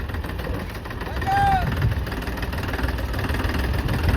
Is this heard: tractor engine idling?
yes